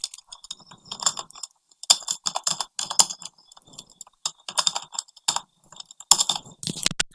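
Someone types on a computer keyboard in rapid uneven bursts of clicky keystrokes with short pauses, close and crisp.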